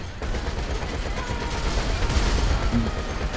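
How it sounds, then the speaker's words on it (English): Half-track cannons firing in GTA 5, a dense barrage of loud blasts running continuously with rumbling low end throughout, a steady wall of gunfire. "we'll go quickly jump out and see what these fucking cannons are like"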